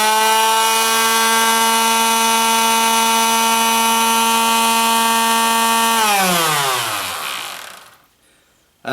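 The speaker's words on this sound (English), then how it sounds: "we'll just turn it on for just a bit to show you how stable this is" A quarter sheet sander held in a small workshop stand hums loudly and steadily with a strong whine, then is switched off, its pitch sliding down as the motor spins to a stop.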